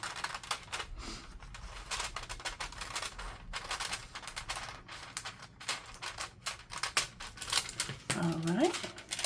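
A paper envelope being handled, folded and crinkled for a journal pocket, with dense crackling and rustling close to the ear and a voice speaking over it.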